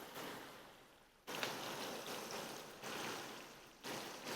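Water is poured into a pan of Balochi tikka karahi with yogurt and tomato, giving a steady soft rushing splash in uneven surges, quiet and close, with no voices.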